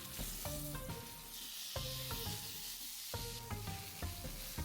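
Beef steak fries in heated oil in a flat pan, a soft continuous sizzle under a rhythmic pattern of tonal musical notes that repeat every second or so.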